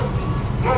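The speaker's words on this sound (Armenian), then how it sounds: "շունն էլ հավեսով հաչում է մեզ վրա" A dog barks outdoors during a wedding-engagement gathering in Nor Hachn, heard as a short, moderately close bark with yips over steady background noise and passing traffic.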